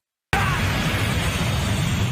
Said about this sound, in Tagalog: nagpakawala ng malakas na pagsabog